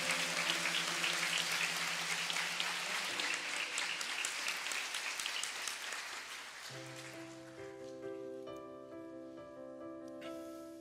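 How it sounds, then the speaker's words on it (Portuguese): A crowd claps loudly and continuously at a religious gathering, dense applause that fades slightly while a sustained musical tone rises beneath it toward the end. "Pode aplaudir a tua mãe."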